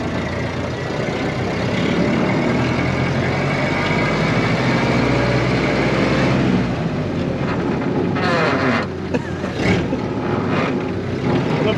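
A 94-year-old Ford Model A flat-bed, revived after decades of rotting, runs on the road with a loud, close engine and exhaust rumble, then eases off near the end amid brief clunks and a shift.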